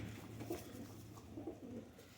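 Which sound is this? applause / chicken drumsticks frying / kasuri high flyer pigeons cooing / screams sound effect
kasuri high flyer pigeons cooing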